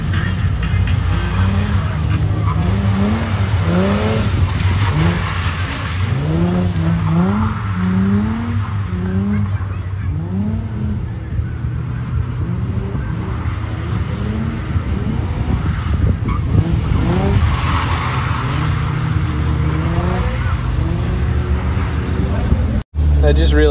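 Nissan 350Z drifting on a raceway, heard from inside the car: engine revs rise and fall in repeated swoops over a constant roar, with tire squeal mixed in and a driver talking at times.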